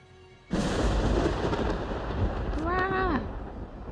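A deep, sustained rumble of thunder rolls from about half a second in and fills the rest of the scene in the video game Twisted Wonderland, with a rising, wavering tonal effect layered on top near the end.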